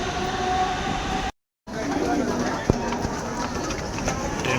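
A crowded commuter train near Thane gives a steady rumbling roar throughout, broken by a short gap and a single sharp clank, with a faint hum of people around.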